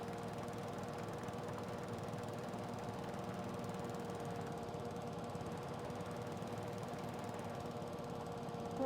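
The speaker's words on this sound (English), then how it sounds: "Probably shouldn't be going over the rocks in a lawnmower." Lawn mower engine from the Farming Simulator 22 video game, a steady droning hum with a rough knocking texture, running continuously at even volume throughout, no voices over it.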